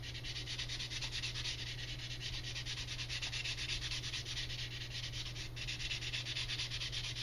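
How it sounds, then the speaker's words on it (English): Steady, continuous wet sanding of Squadron putty on a model, a close, even rubbing hiss with no pauses and no voices. "Just nice wet sanding."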